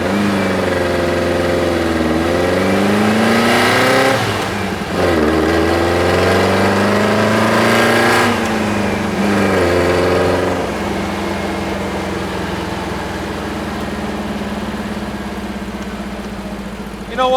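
The engine of a 1969 Volkswagen dune buggy sand rail runs loud and close during a driving test, rising and falling in pitch as it revs and shifts, then settling to a steady drone.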